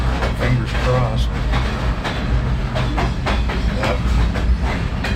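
Freight cars are coupled together in a rail yard near Duluth, loud rumbling with rhythmic clanks and metallic knocks from close by, and a brief voice.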